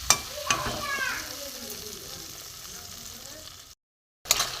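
Spice paste of ground cashew, poppy seed, green chilli and ginger sizzling in hot oil as it is stirred, with a few scraping stirs up close and a brief cut to silence near the end.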